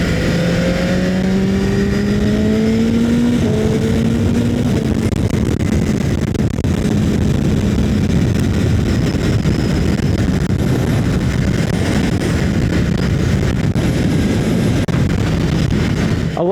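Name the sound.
new 2026 BMW motorcycle riding off and shifting gears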